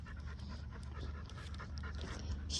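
Pit bull puppy panting rapidly and rhythmically while walking on a leash in a yard, close and fairly loud, with quick breaths through an open mouth and no voices.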